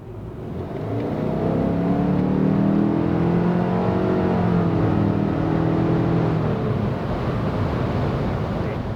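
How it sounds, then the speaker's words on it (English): A 2024 Subaru Ascent with a CVT pulls hard at full throttle from 50 to 100 km/h, its engine drone rising and holding steady for several seconds over wind and road noise inside the cabin. "All right, so we'll go 50 to 100 kilometers an hour again here, full throttle."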